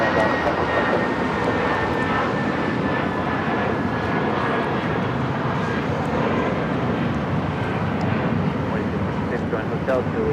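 A jet airliner roars steadily while taking off at Los Angeles LAX airport, a loud, sustained broadband rumble that holds for the whole stretch with no pauses.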